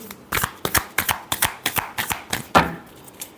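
Tarot cards are shuffled by hand at close range, a quick series of crisp riffling flutters and taps in an uneven rhythm that ends with one firmer snap.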